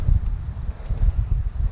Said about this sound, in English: oh, that's a good gust.